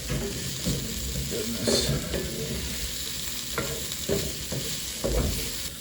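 Squash browning in a pan for chili gives a steady, close sizzle with occasional stirring scrapes, and a person speaks a word briefly.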